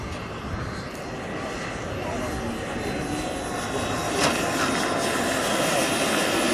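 A turbine-driven ducted-fan scale model Fantrainer 600 on its landing approach, a steady, loud broadband whoosh and whine that holds throughout with a slight swell near the end.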